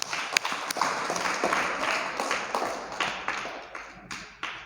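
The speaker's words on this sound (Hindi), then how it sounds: "एक बार तालियां जोरदार।" Uneven clapping from a group in a classroom-style session after a correct answer, loud close claps and taps scattered across a steady rustling wash for several seconds, with no talking.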